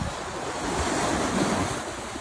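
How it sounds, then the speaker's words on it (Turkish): Sea waves breaking on an open, exposed shore near Bodrum, a continuous soft rushing wash of surf mixed with wind noise on the microphone, fairly faint and with no voices. "Burası dalgalar alan taraf."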